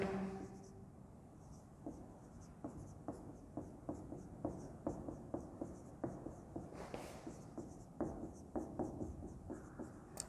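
Pen or marker strokes on a board tap and scratch in a steady, close rhythm for several seconds, with brief pauses between words; low, faint background noise.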